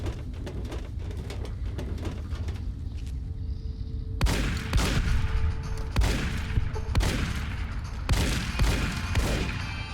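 A field shotgun fires in Fallout New Vegas, played on PC with mods. After a busy stretch of lighter clatter come four heavy, booming blasts spaced about a second apart, loud and close.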